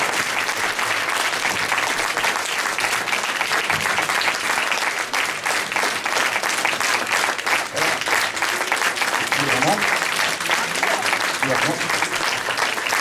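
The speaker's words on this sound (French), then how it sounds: "je crois qu'ils méritent d'être applaudis" A theatre audience applauds a troupe after a performance of the play 8 femmes, a loud, dense and steady ovation lasting the whole stretch with no pause.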